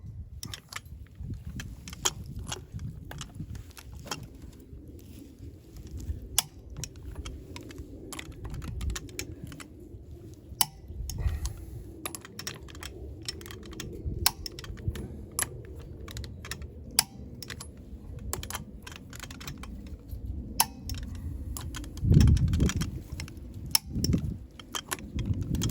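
Lug nuts being torqued down in a star pattern on a wheel of a 2021 Keystone Cougar Half Ton 22RBS RV after a flat, giving repeated sharp, close clicks and ratcheting ticks over a steady low outdoor rumble, with no talking.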